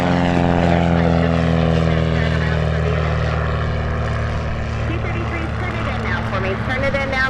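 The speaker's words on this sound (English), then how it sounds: "C-47 flight 2 lined up for the initial for runway" A Douglas C-47 propeller aircraft arrives to land at Oshkosh during EAA AirVenture, its loud, steady radial engine drone filling the air throughout while radio talk runs over it.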